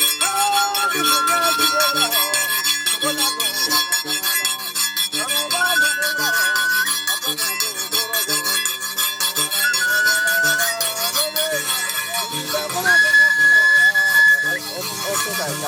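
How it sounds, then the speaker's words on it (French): Hunters' whistles shrill repeatedly in the Burkina Faso bush to proclaim a kill. Sustained high tones rise over a dense, continuous backdrop of voices and other sound. "Les sifflets retentissent pour annoncer aux animaux de la brousse la victoire des chasseurs sur l'un des leurs"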